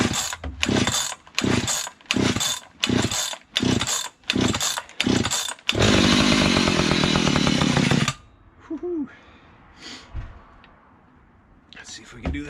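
A vintage 1970s Stihl 031AV chainsaw being pull-started repeatedly with choke on, rhythmic rasping cord pulls that give way to a loud two-stroke engine roar for about two seconds before it dies, a voice speaking briefly afterward.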